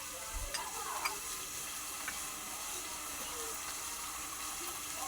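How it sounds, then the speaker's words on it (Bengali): Potatoes fry in oil in a kadai, a soft, steady sizzle heard fairly quietly, with a faint low knock early and a couple of light clicks from the pan. "ওইদিকে আলুটা ভাজা হতে হতে মশলাটা করে নেবো তরকারি।"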